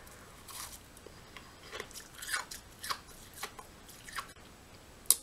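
Crunchy packed snow chewed close to the mouth, with soft, irregular crisp crunches and bites over several seconds. The sound is quiet, with a sharper crunch near the end and no talking.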